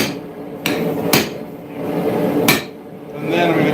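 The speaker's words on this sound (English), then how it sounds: "I'm going to get the drift started over the face of the anvil." A blacksmith hammers a drift over the face of an anvil while forging a railroad spike into an axe, striking three sharp, ringing metallic blows at uneven intervals with quieter clatter between them.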